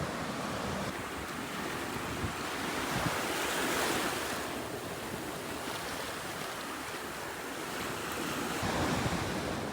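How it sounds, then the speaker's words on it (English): Waves wash steadily onto Black Sand Beach in Vieques, Puerto Rico, a continuous close surf roar mixed with wind buffeting the microphone, with no voices. "We are at Black Sand Beach in Vieques, Puerto Rico"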